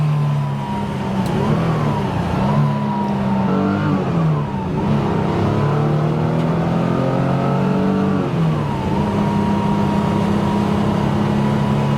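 A fully restored 1969 Porsche 911 E engine hums steadily throughout, its pitch rising and falling with gear changes as the car drives along at a close, constant level.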